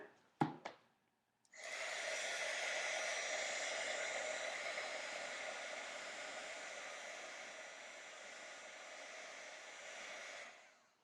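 A heat gun runs steadily for about nine seconds during a steampunk spellbook craft project, a loud, continuous airy roar after a couple of brief clicks, easing slightly before it cuts off.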